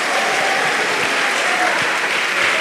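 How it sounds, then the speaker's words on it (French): Steady, dense applause from a conference audience at a Pan-African congress, continuous and fairly loud throughout with no breaks or voices standing out. "Sous vos applaudissements"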